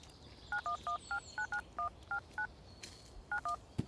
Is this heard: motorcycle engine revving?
no